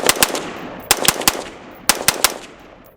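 Budget-built AR-15 rifle with a Velotor stock firing at the range in three quick bursts of about three sharp, close, loud shots each, spaced roughly a second apart with brief echoing decay.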